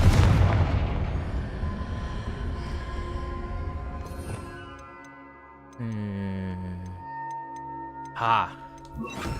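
A Confringo fire spell from the Hogwarts Legacy video game explodes in a loud, noisy burst that decays over several seconds. Ringing tonal game music follows, with another short sharp impact near the end.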